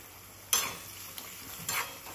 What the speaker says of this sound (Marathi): त्याच्यामध्ये कांदा पण ॲड केला आणि कांदा तळून